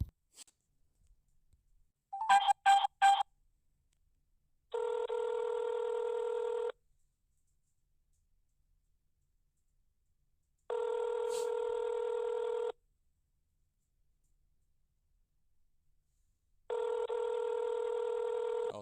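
Keypad tones tapped out in a quick burst, then a telephone line rings unanswered, three evenly spaced long rings separated by silence, clear and close.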